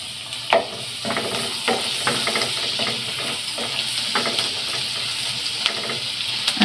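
Onions frying in a hot pan give off a steady broadband sizzle with small crackles and pops scattered through it, continuous and fairly close, with no talking.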